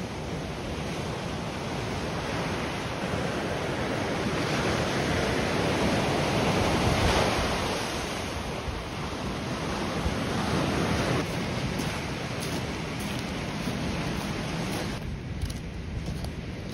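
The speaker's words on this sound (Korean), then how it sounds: "바로 코앞까지 파도가 밀려옵니다." Ocean waves surge onto a beach along a coastal walking path, a steady loud wash of surf with wind buffeting the microphone, continuous and swelling without any talk.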